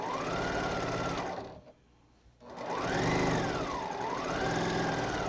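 Sewing machine stitching quilting fabric pieces together, a steady close mechanical whir that stops briefly for about a second, then runs on with changing speed.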